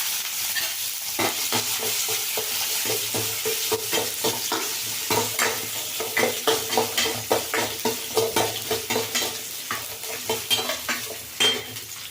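Ginger, garlic, cinnamon and cloves fry in hot oil, a steady sizzle broken by rapid, repeated scraping stirs of a spatula against the pan, close and alone.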